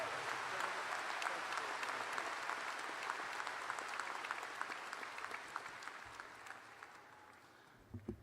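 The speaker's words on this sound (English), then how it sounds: "Let's give one more round of applause to the Senator" Sustained applause from a commencement audience honoring the Senator at an undergraduate graduation ceremony, broad and steady, slowly thinning toward the end with a few last scattered claps.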